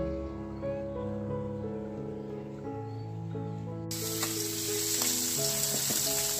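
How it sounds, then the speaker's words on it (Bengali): Tangra fish fry in a pan with a continuous soft sizzle under steady background music, growing slightly louder and brighter toward the end. "ট্যাংরা মাছ ভাজা চলছে"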